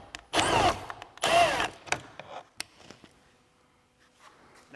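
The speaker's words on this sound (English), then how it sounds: "We'll go ahead and unscrew that." Power driver backing out 7mm screws from a Chevy Trax door panel during a side mirror replacement: two short, loud whirring bursts close by, followed by a few faint clicks and taps of handling.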